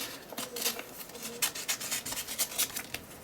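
A paper quote being trimmed for a steampunk-style page, heard as quiet, close snips and rasping cuts in an irregular run of short bursts.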